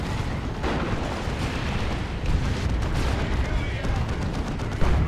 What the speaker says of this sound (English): There's a lot of rockets.